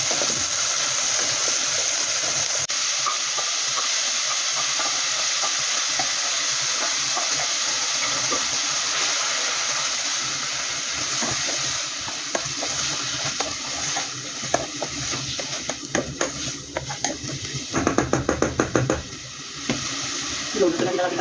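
Dried anchovies (dilis) sizzle and sauté in a pan for ginisang monggo, a steady frying hiss with scraping stirring sounds near the end, while a person talks.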